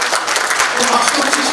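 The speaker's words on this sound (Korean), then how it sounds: "큰 박수 부탁드릴게요" Loud applause from an audience at a book launch event in Korea, a dense, continuous burst of clapping heard up close for a brief moment.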